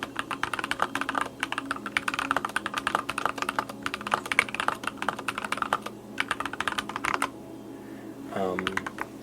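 Steady typing on a mechanical keyboard fitted with tactile Princess switches, a dense run of close, crisp key clacks and taps that breaks off near the end, followed by a brief low hum.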